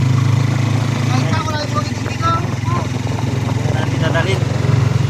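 A small fishing boat's engine chugs loudly and steadily close by, its low throbbing running throughout while a person talks over it.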